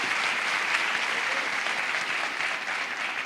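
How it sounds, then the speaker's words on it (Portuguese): A plenary audience at a women's health conference breaks into sustained applause, an even, continuous patter of many hands clapping throughout, heard from a moderate distance. "eu quero uma salva de palmas para todas as mulheres aqui nesse plenário"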